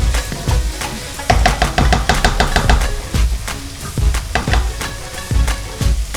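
Chole frying with homemade chana masala in a pan, a steady sizzle broken by repeated scraping stir strokes and spoon knocks, loud and close, without talk.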